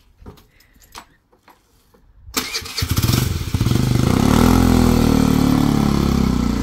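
A Honda motorbike starts after a few faint clicks. The engine catches with a sputter and settles into a loud, steady idle close by.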